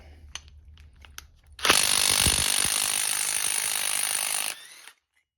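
A power tool spins a 30mm shaved socket against a mechanical diesel fuel injector, a few faint clicks giving way to a loud, sustained high-pitched whirring grind for about three seconds that then cuts off abruptly, with no speech.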